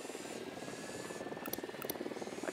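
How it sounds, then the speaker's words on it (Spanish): A surveillance drone hovers in the Ghost Recon video game, a steady pulsing rotor whir with a fluttering, buzzy texture and a faint high whine, close and alone with no speech. "drone is up."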